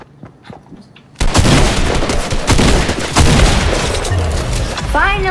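Heavy gunfire erupts in a Fortnite match, a dense burst of shots and booming impacts that starts abruptly after a quiet moment and keeps going loud and close, with brief talk under it.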